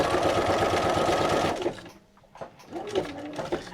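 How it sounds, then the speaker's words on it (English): A sewing machine stitches through paper scraps in a steady, rapid mechanical run for about a second and a half, then stops, leaving quieter handling noises and light rustling of paper. "You can lift the foot of your sewing machine a little bit,"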